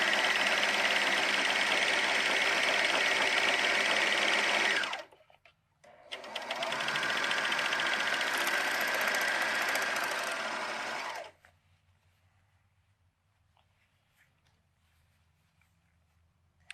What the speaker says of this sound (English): So now we're just going to seam up that side seam.